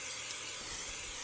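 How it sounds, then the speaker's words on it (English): Cooking spray hisses steadily into a clean mixing bowl as it is greased before cinnamon-roll dough goes in, a soft continuous spray lasting over a second. "Now we're going to grease a clean mixing bowl with cooking spray."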